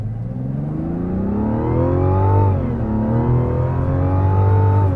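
A 2024 Mazda CX-90 SUV engine revs hard under full throttle in sport mode, its pitch climbing steadily, dipping briefly at a gear change, then rising again, loud and close.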